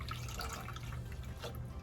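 Liquid pours into a cup in a quiet kitchen, a faint, continuous trickling splash lasting a couple of seconds with no talk.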